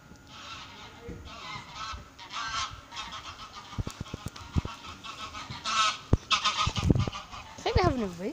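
Waterfowl honk repeatedly, several loud nasal calls that overlap at close range, with a few sharp knocks and a rising cry at the end.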